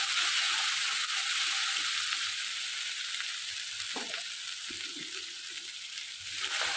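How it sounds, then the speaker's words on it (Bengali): Garlic and ginger paste frying in hot oil with onions, a bright continuous sizzle with a few stirring scrapes partway through, close and steady, fading a little toward the middle before swelling again. "এখন এখানে আমি দিয়ে দিচ্ছি রসুন বাটা, সামান্য আদা বাটা। এটাকে একটু ভেজে নেব তেলের মধ্যে"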